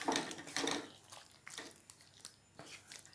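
A spoon stirring vegetarian potato and pointed gourd curry with ghee in a pot, giving quiet scraping and clinking strokes in irregular bursts, loudest at the start and then fainter, with no talking.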